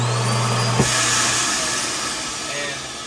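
A built-in vacuum in a 2022 Forest River RPOD 192 camper starts with a sharp thump, then runs as a steady loud hiss and whine nearby, with a voice speaking over it.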